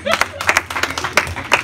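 Rhythmic clapping from the congregation at a Mother's Day church program, a steady run of crisp claps heard close and mixed with voices talking over it.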